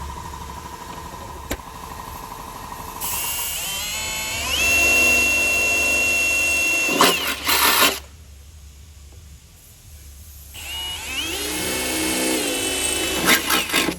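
Loud drilling into center-punched sheet metal of a Sprinter van runs in bursts with a high whining pitch, stopping briefly and then starting up again, over a low steady rumble.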